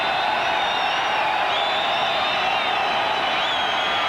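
Sustained crowd roar fills a domed stadium during a 1997 NFL football game between Seattle and New Orleans at the Superdome, a steady loud wash of voices and cheering with no distinct pauses.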